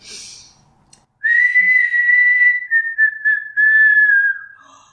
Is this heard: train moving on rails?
no